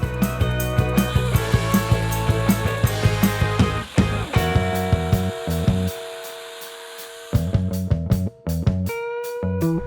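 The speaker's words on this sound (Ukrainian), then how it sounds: "маленький акумуляторний гілкоріз перетворюється на справжній висоторіз, здатний впоратися з неабиякими завданнями на висоті до трьох метрів" A cordless STIHL pole pruner cuts tree branches, its electric motor whining with tonal harmonics while the chain bites wood in quick, regular rasping strokes, close and loud, with brief pauses and no talk.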